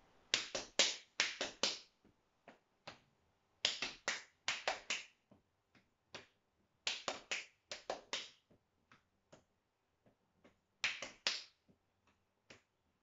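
Hand-made rhythm pattern of the word bubblegum in a primary school music lesson, sharp snapping or clapping beats in short repeated groups of about four, close and crisp with gaps between phrases.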